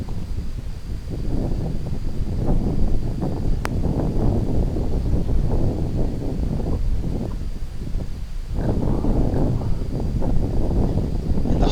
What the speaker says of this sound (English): Wind's blowing from left to right.